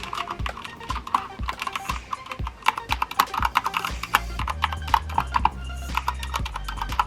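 Fingers type on a Coca-Cola X BYTE computer keyboard in a fast, uneven stream of crisp key clicks and clacks, close up, with no talking.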